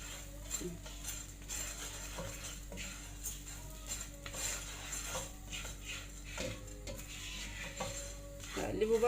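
A utensil stirs and tosses food in a pan with salt and a splash of water as it toasts, giving steady scraping and clinking strokes close by, with a few sharper knocks near the end.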